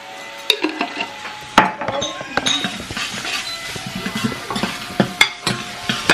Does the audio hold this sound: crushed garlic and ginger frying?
yes